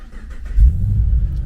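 A 2015 Holden Commodore with a 6-speed sports automatic runs nearby, a brief low engine rumble that swells after a moment and then holds steady.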